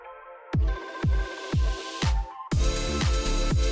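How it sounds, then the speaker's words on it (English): A sampled chord is chopped into quick repeated bursts with punchy kick thumps, stuttering rhythmically before bursting into a fuller, denser section. "I added in this little like stutter effect manually by chopping the sample that sounds like this."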